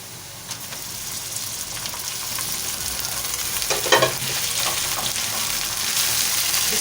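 Minced meat (keema) fries in a karahi with a steady, close sizzle and a few spoon scrapes as it is stirred, the hiss rising slightly toward the end; no one speaks.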